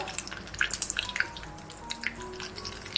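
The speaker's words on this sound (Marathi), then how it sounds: "मोहरी चांगली तडतडून द्यायची" A spoonful of mustard seeds crackles in hot oil with curry leaves on low heat, scattered quick pops and a faint sizzle, close and light.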